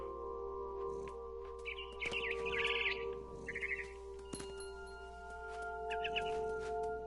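Bird chirps from a mother bird in the video game What Remains of Edith Finch, several short bursts of high twittering spread over a steady ambient game drone, fairly quiet.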